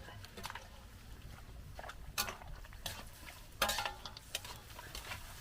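Goat meat kaldereta with cassava gets stirred in a pot, giving quiet, irregular scrapes and metallic clinks of a utensil against the pot over a soft low background.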